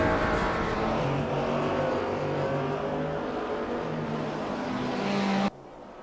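Audi and BMW race cars circuit racing at Spa, engines droning loudly and steadily at high revs with pitch rising in places, then cutting off abruptly near the end.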